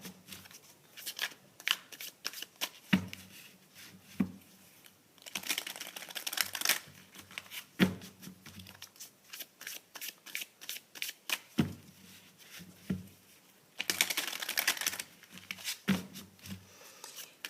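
Tarot cards are shuffled and laid out on a table, with quick riffling bursts, flicks and soft slaps of cards set down at close range, coming in irregular clusters with brief pauses.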